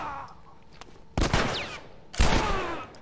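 Gunfire from headshots in the video game Grounded comes as two loud, dense bursts of rapid shots, each lasting about half a second, with a quieter stretch before them.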